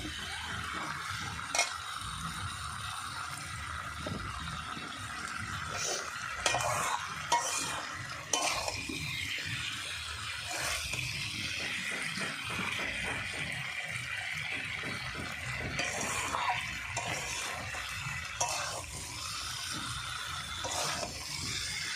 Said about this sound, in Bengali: মশলাটা আর একটু কষে আমি জল ঢেলে দেবো